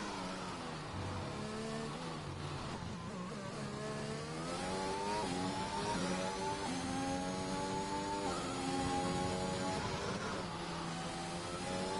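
A McLaren race car in a video game race accelerates through a qualifying lap at the Saudi Arabia circuit, its engine whining steadily and rising in pitch through the gears, loud and continuous with no talk.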